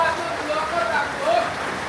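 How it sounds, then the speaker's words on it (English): Heavy rain pours down in Bangladesh, a dense, continuous hiss of water striking surfaces that stays steady and fairly loud throughout. "you should be able to hear the rain thundering down"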